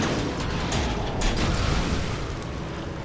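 A grenade detonates in Lego Star Wars: The Skywalker Saga, a rumbling blast that swells and then lingers as a dense, noisy roar beneath the game's ambience.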